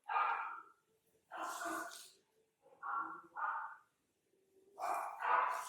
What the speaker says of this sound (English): do y'all hear Jock in the background barking like he's crazy?